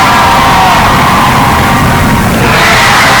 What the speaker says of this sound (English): They're giving this team and this group of seniors one final applause